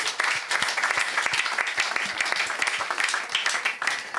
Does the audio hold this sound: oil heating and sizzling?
no